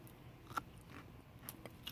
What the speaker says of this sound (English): Excuse me while I eat some okra.